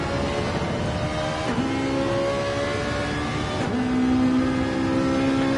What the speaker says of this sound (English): This car is sounding good.